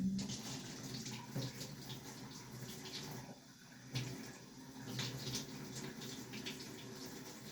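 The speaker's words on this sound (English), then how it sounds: "So I just get a little bit of water running" Water runs from a tap to wet a washcloth for cleaning leather with saddle soap, a steady rushing splash that continues through the clip with small surges, fairly close, no talking.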